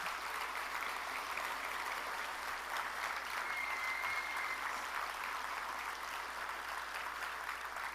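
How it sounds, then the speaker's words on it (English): Steady applause from a large audience at an evening gala fills the room, an even, sustained wash of clapping that stays constant throughout, moderately distant with no talking. "a huge round of applause for making this happen here tonight"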